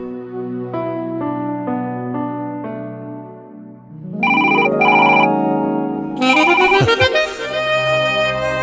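A telephone ringtone plays loudly and alone, a melodic sequence of electronic tones that steps down and then gives way to brighter, busier ringing phrases repeating toward the end.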